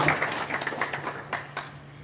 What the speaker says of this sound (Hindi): आपकी भरपूर तालियों में सैयद मुसद्दिक शाह बुखारी से